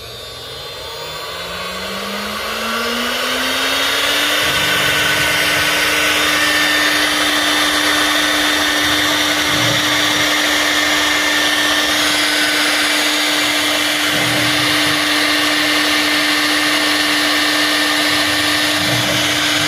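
A CNC router spindle whines up in pitch and settles into a loud steady high tone, with periodic lower thumps as it drills holes, continuous throughout.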